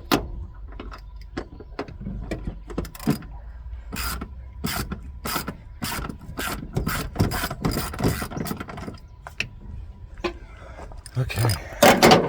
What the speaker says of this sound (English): Keep hitting that switch on the ratchet